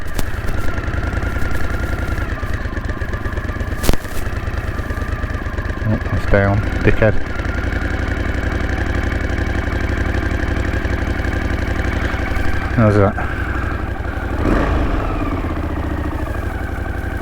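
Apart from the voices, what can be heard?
1981 Honda CX500 motorcycle engine idling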